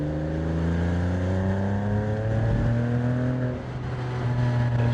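A Porsche 987 Boxster engine pulls hard in second gear, its pitch climbing steadily for about four seconds before a short dip as the revs settle. The sound is loud and continuous, with no one talking.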